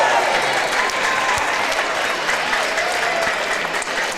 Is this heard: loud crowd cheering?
yes